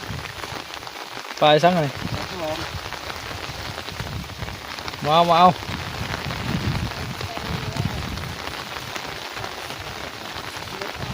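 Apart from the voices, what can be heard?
rain falling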